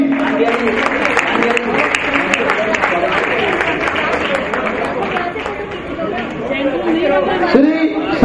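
Audience applause welcoming guests at a Maharaj Agrasen Jayanti event, steady clapping mixed with crowd chatter and a talking voice, continuous and fairly loud throughout.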